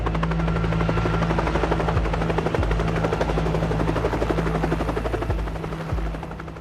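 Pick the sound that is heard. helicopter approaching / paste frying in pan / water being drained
helicopter approaching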